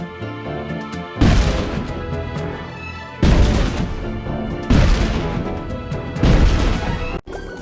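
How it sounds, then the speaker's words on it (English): Heavy cannon blasts and crashing impacts from a SpongeBob Battle for Bikini Bottom game scene, the Dutchman's cannons wrecking a robot ship; four loud, sustained bursts of booming destruction separated by brief quiet gaps. "shoot the Dutchman's cannons to destroy the robot ship"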